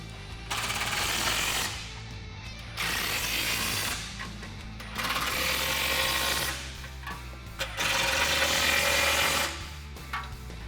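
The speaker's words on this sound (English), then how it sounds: "for the top frame bolts, I'm going to be using that same 18mm socket and 18mm wrench" Ratcheting bursts from an 18mm socket and wrench snugging the top frame bolts on a Jeep Wrangler JL Barricade Extreme HD rear bumper, three sustained rapid clattering runs separated by short pauses, close and loud.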